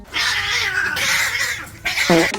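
A cat yowls loudly and drawn-out, a long wavering caterwaul followed after a short pause by a second, shorter whining meow close by.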